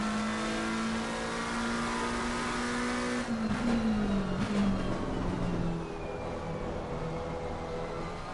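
Race cars in Assetto Corsa Competizione at Valencia, engines revving loudly in close pack racing, a steady roar with pitch rising and falling as cars shift and jostle, with no one speaking.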